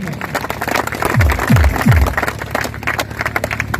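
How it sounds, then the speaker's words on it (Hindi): Seminar audience in Ranchi breaks into applause, a broad wash of clapping that swells in the middle, with a few swooping tones cutting through. "दोस्तों जोरदार ताली होनी चाहिए।"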